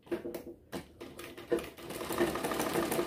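A sewing machine stitches the side slit of a kameez in short stop-start bursts of rapid clatter, then settles into a continuous run, close and moderately loud, with no speech.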